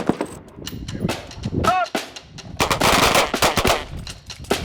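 Pistols and rifles fire during Border Patrol Academy firearms training, with rapid bursts of sharp cracking shots, loud and dense, mixed with brief voices in the middle.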